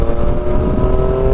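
Triumph Street Triple motorcycle engine droning steadily while riding in cold weather, a loud, close, continuous hum with a steady tone and wind rush, no talking.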